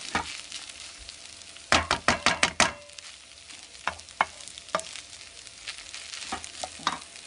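A lamb and beef stir fry meal-prep mixture sizzles in a pan under a soft, steady hiss. A spatula scrapes and stirs in a quick burst of sharp strokes, followed by scattered lighter scrapes, close by, with no talk.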